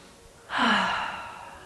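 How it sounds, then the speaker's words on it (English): A single slow, deep breath, an audible airy inhale rising and fading over about a second, is taken close up during a guided tapping relaxation exercise. "Breathe in."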